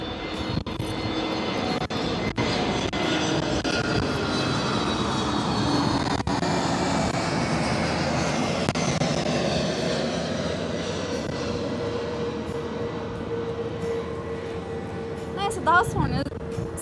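A passenger jet passes over Zurich airport, building into a long, loud, broad engine roar that peaks midway and then slowly fades, with faint speech and a brief clatter near the end.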